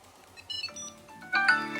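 A phone ringtone triggered by a Tile Mate tracker chimes out in bright melodic notes, starting quietly and then jumping sharply louder, with no voices over it.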